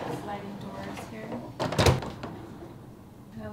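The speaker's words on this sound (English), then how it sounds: "And this is our bathroom. With these sliding doors here." Bathroom sliding doors in a room at the Miraval Arizona resort and spa give one brief rumbling slide and bump that stands out over a quiet room with voices nearby.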